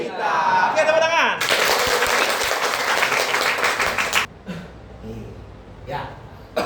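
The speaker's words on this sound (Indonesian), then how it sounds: "Oke, tepuk tangan." Classroom of children applauding together in a Hindu religion lesson, a loud burst of dense clapping lasting a few seconds before fading into quieter room noise and a teacher's voice.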